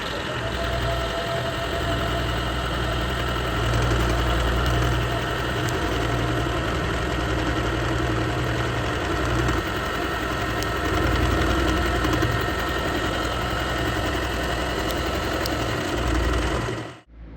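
A cheap go-kart engine fitted with a homemade muffler idles steadily close by. The low throbbing rumble stays fairly subdued and constant, with a mechanical knock running under it, until it stops near the end.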